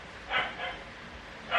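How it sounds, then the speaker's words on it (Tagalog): A dog barks a few times nearby, two quick yaps followed by another after a pause, fairly faint against a quiet indoor background. "Nakikisabay pati yung aso."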